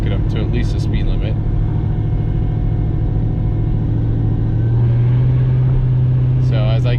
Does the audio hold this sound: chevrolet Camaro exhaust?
yes